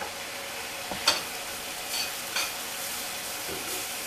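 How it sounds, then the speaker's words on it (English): Carrots and mixed vegetables sauté in a pan under a steady, soft sizzle, with a few brief scrapes of stirring scattered through. "We'll start sauteing our veg. Then we'll go in with our carrots."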